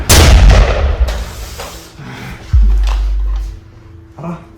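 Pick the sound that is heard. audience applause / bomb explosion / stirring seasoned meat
bomb explosion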